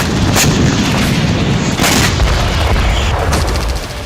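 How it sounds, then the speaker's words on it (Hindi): A guided missile fires from a small paratrooper vehicle near Artemivsk in the Russia-Ukraine war, heard as loud booming blasts and sharp reports over a heavy rumble, with a few distinct hits across the stretch. "छोटे से वाहन से गाइडेड मिसाइल फायर की गई और चंद सेकंड बाद एक जोरदार धमाका हुआ।"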